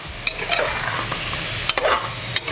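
Spiced chicken pieces are stirred and fried in a pan for dhaba-style chicken gravy: a continuous sizzle broken by several sharp scrapes and knocks of a spoon against the pan, close and fairly loud, with no talking.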